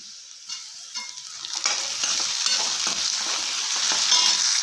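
Tomatoes added to a hot pan with onions for North Karnataka style potato palya, frying and sizzling steadily with stirring scrapes, the hiss growing louder and continuous.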